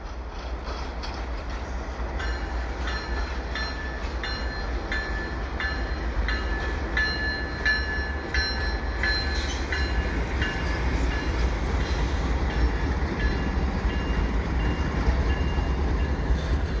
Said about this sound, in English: I'm going to film this train.